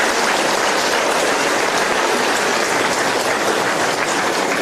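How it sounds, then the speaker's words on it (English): Audience applause for teachers at a Bangalore Institute of Technology ceremony, a dense, steady wash of many hands clapping, loud and continuous throughout with no talk. "The last big round of applause to all the respected teachers who have made you today what you are to the world."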